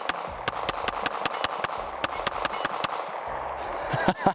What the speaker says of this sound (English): Let's just shoot it and see.